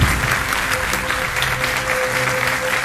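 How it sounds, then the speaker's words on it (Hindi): Studio audience applause on a TV quiz show, a dense burst of clapping that runs the whole short stretch, close and steady with a faint background tone. "तालियां बजाएं।"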